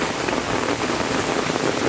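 Heavy rain falls around a house in a village, pouring steadily with water running hard off the roof; a dense, continuous hiss fills the whole stretch with no voices.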